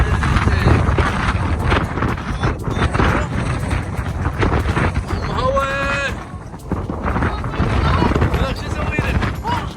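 Strong gusty wind buffets a microphone outdoors by the water, a steady broadband roar with brief louder surges, while people talk in the background.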